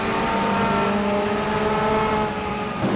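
GTE-class race cars sweep past as a pack during an endurance race at the Brazilian Grand Prix, a sustained loud engine roar with layered tones and no voices.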